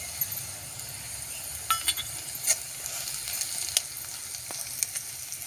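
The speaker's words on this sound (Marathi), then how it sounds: "कांदा भाजत आलाय आपला" Onion sizzles and fries in a pan over a wood-fired clay stove with turmeric and red chili powder added, a steady close crackle broken by a few light clinks of a spoon against the pan.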